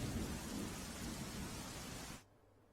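Torrential rain pours down over a waterlogged Vadodara city street, a dense, loud, steady hiss that cuts off abruptly near the end.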